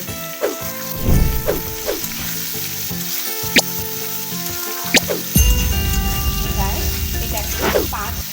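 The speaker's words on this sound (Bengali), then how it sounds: "একটা করে ভেজিটেবিল কিছুক্ষণ ভাজার পরে দ্বিতীয় ভেজিটেবিলটা এতে অ্যাড করবে" Vegetables for shukto fry in a pan with a loud, steady sizzle. Sharp clacks and scrapes of stirring break through it now and then.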